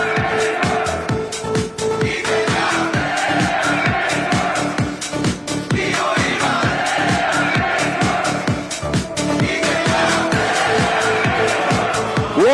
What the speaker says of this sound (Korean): 더 큰 박수와 환호 부탁드립니다